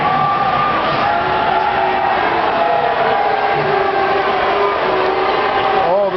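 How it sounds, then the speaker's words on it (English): Occupy LA protest crowd clashing with LAPD during the downtown Art Walk, a dense roar of many shouting voices with whoops and chanting, loud and steady throughout, with individual people speaking close by amid the noise. "Crowd making a lot of noise"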